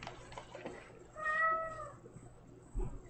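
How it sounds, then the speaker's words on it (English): A single drawn-out cat meow rises in the middle of a quiet room, moderately close, with a soft thump afterward. "If you hear meowing"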